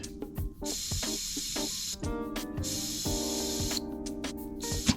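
Compressed air hisses in repeated short bursts through the carburettor needle and seat of a 1952 VW barn door ambulance, close and sharp, with brief gaps between blasts.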